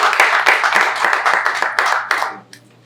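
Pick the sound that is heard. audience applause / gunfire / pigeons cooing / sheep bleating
audience applause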